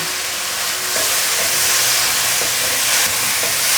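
Sugar snap peas and tomato stir-fried in a hot wok, with a steady loud sizzle and hiss and regular scraping strokes from the quick tossing.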